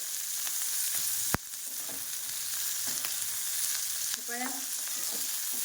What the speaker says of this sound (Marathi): तेल टाकून नंतर आपण चांगले भाजून घेऊया